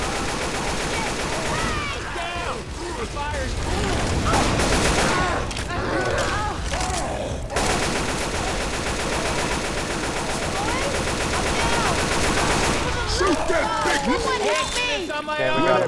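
Dense, continuous machine-gun fire unloads on the Tank in Left 4 Dead 2, loud rapid bursts stacked from several guns almost without pause, with people talking over the shooting.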